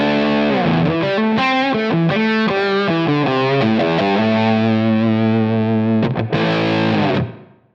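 Distorted electric guitar, a Vigier GV wood guitar through a Helix preset using the Brit Trim Norm amp model and Greenback 4x12 cabs, plays a fast run of crunchy notes settling into a sustained chord that rings then stops.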